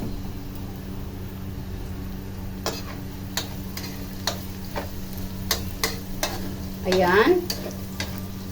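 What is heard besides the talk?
sautéing garlic, onion, ginger and crushed pepper in pan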